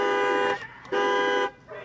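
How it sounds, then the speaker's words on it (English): A car horn blares in two long, loud honks separated by a short gap, the second starting just under a second in, with a third sounding at the end. "Beeping his horn, it's not working."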